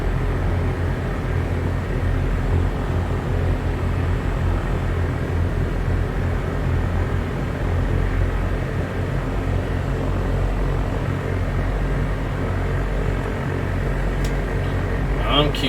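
Simulated aircraft engine droning steadily while taxiing in the X-Plane 11 flight simulator, a constant low rumble and whine throughout.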